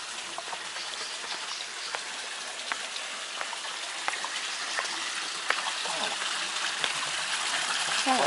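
Water runs at a spring fountain among bamboo, a steady close splashing hiss with small irregular droplet taps that holds evenly throughout.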